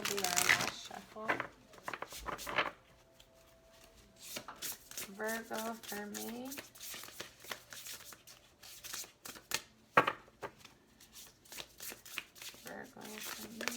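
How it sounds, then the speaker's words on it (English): Oracle cards are shuffled in quick, crisp riffling bursts close to the microphone, separated by pauses, with someone speaking between the shuffles. "All right, this will be our last shuffle."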